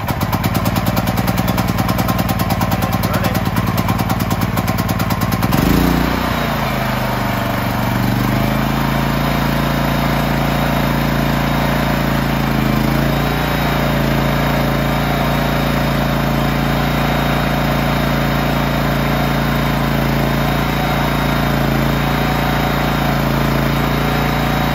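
A Champion 100520 generator engine cranks with rapid, choppy firing for about five seconds, then catches and settles into a steady, humming idle that runs on evenly close by, with no voices.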